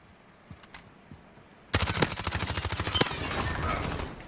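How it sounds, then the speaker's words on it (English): Rapid automatic gunfire from a video game shooter bursts in suddenly and keeps going as a dense, loud, continuous volley, after a quieter stretch with a few faint clicks. "I was shooting him at one angle, you were shooting at him in the other."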